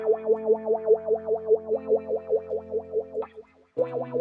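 An electric guitar with a wah pedal, playing a rhythmic repeated riff whose tone sweeps open and closed on each note, with a short break near the end.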